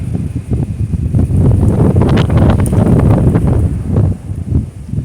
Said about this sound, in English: comes the wind